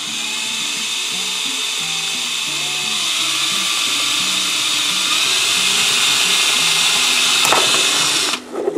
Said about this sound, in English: I wanna drill this, I'm gonna hold some good pressure